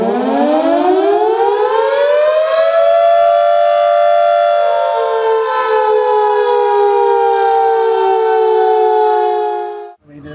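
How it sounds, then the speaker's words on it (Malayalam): Dam warning siren mounted atop Irattayar dam, sounded during a trial run: a loud mechanical wail rising in pitch, holding a long steady tone, then winding down and cutting off near the end. "രാവിലെ 11 മണിക്ക് ഡാമിന്റെ മുകളിൽ സ്ഥാപിച്ചിരിക്കുന്ന സൈറൺ മുഴക്കിയത്."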